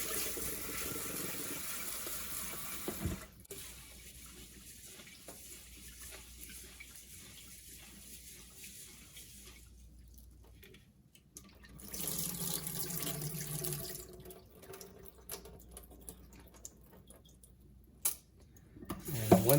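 Cold tap water running into a bowl as rice is rinsed to wash off surface starch for maki sushi, a steady splashing stream with brief pauses and clinks, close and fairly quiet.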